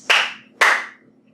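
Two crisp, loud hand claps land about half a second apart during a line dance routine, close and dry, with no voices.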